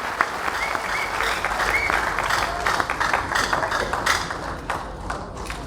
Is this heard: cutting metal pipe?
no